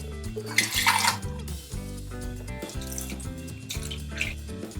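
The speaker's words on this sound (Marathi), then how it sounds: "म्हणून आपल्याला हे पनीर असं धुवून काढायचं आहे" Homemade paneer is rinsed under running water, a close, steady splashing stream with a louder gush near the start, no one speaking.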